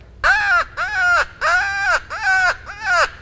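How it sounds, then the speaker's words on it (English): A hand-blown crow call used for turkey hunting sounds five loud, close, nasal caws in an even rhythm, each a drawn-out rising-and-falling cry with short gaps between. "you can learn how to use a crow call"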